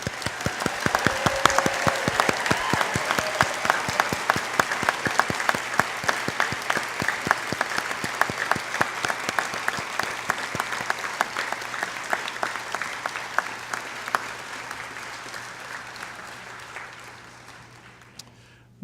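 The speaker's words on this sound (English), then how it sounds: "We may now applaud for these graduates" Applause for graduates at a university convocation ceremony: a large hall of steady, crisp clapping that holds strong for several seconds, then slowly thins and fades out.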